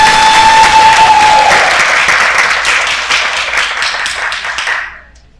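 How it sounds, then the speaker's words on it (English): Applause for graduates at a cohort graduation ceremony, loud and dense clapping from a nearby crowd that gradually thins and fades out to silence over about five seconds. "Let's give them another round of applause."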